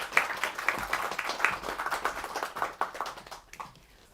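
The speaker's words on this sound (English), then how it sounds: "Let's give her a big round of applause." A lecture audience claps for a speaker at a talk on medicine and misogyny, dense steady applause of many hands at moderate level, tapering off toward the end.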